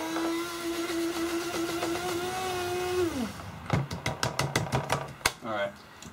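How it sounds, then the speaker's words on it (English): Coffee grinder motor whirring on terephthalic acid, a steady high whine that winds down after about three seconds, followed by a series of sharp knocks and taps on the grinder. "run it through our coffee grinder real quick"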